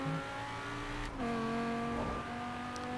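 A 2018 BMW M5 with a swapped-in, more powerful engine in the video game Forza Horizon 4 revs steadily, its engine tone stepping down briefly as a gear changes and then holding, loud and close with no talk.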